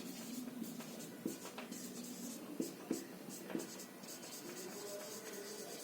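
Marker or chalk writing numbers on a board during a maths class, with faint scratchy strokes and a few sharp taps at intervals, quiet over a low room hum.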